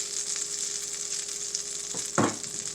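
Butter and olive oil sizzle steadily in a hot pan, a continuous bright frying hiss that swells briefly near the end as something shifts in the fat.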